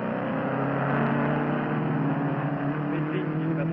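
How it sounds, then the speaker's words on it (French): A race car passes through a chicane during a circuit race, its engine a steady, fairly loud droning whine that holds nearly level for a few seconds. "nous avons toujours Scott Brown qui passe à son tour à chicane"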